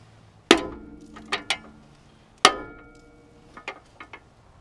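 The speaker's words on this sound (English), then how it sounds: "so now let's start pounding this thing." Two sharp metallic strikes of a mallet on a VW MK4 control arm ball joint, about two seconds apart, followed by a few fainter clinks of metal parts; close and loud in a quiet workshop.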